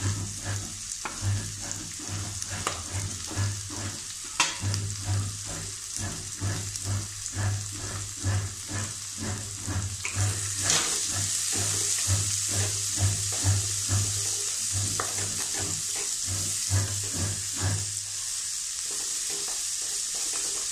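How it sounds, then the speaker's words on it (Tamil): Sliced large onions sizzle steadily in a hot pan for chana masala, with frequent rhythmic scrapes and clinks of a spoon stirring them throughout. "நல்லா வதங்க விடணும்."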